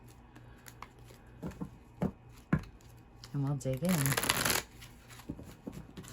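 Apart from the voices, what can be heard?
shuffling a deck of oracle cards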